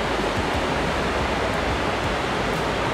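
White-water waterfall pouring steadily, a dense, loud broadband roar that fills the whole clip with no voices on top.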